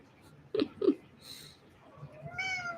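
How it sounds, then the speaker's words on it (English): A house cat meows twice in quick succession, fairly close and clear, then gives a longer, rising, wavering cry a moment later against a quiet room. "The cat's freaking out."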